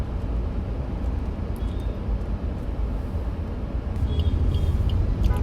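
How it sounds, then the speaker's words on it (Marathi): Road traffic idles and creeps at a signal, a continuous low rumble of car engines with faint passing noise and occasional higher tones. "आणि इकडे थोडं आहे ट्रॅफिक सिग्नलमुळे."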